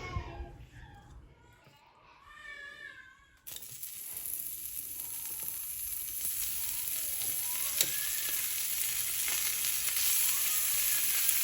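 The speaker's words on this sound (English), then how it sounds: "Then we're gonna get it browning in the pan" Salted beef hits a hot pan with avocado oil and breaks into a loud, steady sizzle that keeps building, preceded by a cat's meowing and a quiet stretch before the frying starts.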